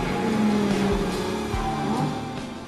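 Audi R8 GT sports car driving with the engine audible close up, a loud sustained mechanical drone with shifting pitch that tapers slightly at the end.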